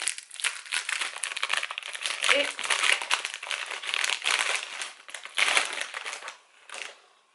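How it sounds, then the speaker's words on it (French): A small sealed sachet of chocolate shortbread biscuits is torn open up close, with loud crinkling and crackling plastic in bursts that fade toward the end. "C'est un petit sachet qui est fermé comme ceci. Donc je vais l'ouvrir."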